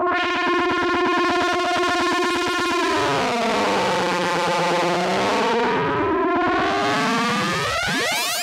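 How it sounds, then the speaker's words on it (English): Ring modulator on a homemade 1970s synthesizer built from magazine projects, producing loud, dense metallic tones whose clashing pitches sweep and bend in crossing arcs, sustained and harsh with no talk. "I haven't actually tried the ring modulator since I fixed it, so let's give it a go."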